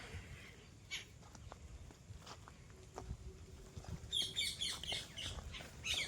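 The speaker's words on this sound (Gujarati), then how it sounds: "પોપટ બોલે, પોપટ." Parrots in a garden give short scattered calls, with a louder burst of chattering squawks in the final two seconds, faint and somewhat distant over quiet outdoor background.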